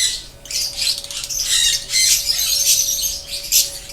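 Parrots and lovebirds in an aviary squawk loudly and close up, with harsh, overlapping screeches in rapid, uneven bursts over a faint steady background hum.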